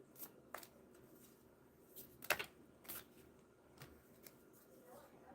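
Tarot oracle cards being shuffled in short crisp riffles and slaps, spaced irregularly over a quiet low room hum, with no speech during these bursts.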